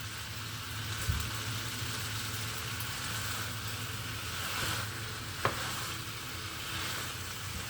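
Peppers simmering in olive oil on high heat for peperonata Calabrese: a steady, even sizzle and soft bubbling close by, broken by a couple of faint clicks of a utensil against the pan.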